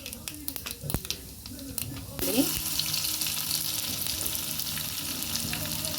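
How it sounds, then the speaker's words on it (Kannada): Mustard seeds and cumin hitting hot oil for sambar, quiet kitchen clatter and a voice at first, then a sudden loud sizzle that keeps crackling steadily, close by. "ಈಗ ಸಾಸಿವೆ ಹಾಕ್ತಾ ಇದ್ದೀನಿ ಅರ್ಧ ಟೀ ಸ್ಪೂನ್ ನಂತರ ಜೀರಿಗೆ ಅರ್ಧ ಟೀ ಸ್ಪೂನ್"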